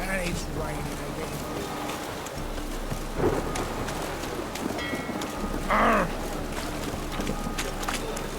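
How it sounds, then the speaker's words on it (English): Steady rain falls in The Witcher video game, a constant hiss of water that fills the whole stretch, with a few short game sounds breaking through. "And it's raining again."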